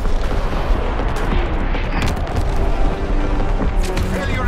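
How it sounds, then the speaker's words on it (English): Incoming enemy artillery in the WWII shooter Call of Duty: WWII: a continuous, dense barrage of booms and gunfire, loud and close throughout, with scattered sharper blasts standing out near the end. "Incoming enemy artillery"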